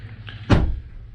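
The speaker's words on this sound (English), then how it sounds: "open the bonnet." A single dull thud of a 2022 Lexus NX450+ bonnet being released and lifted, close by, against a low idle hum with a faint click just before.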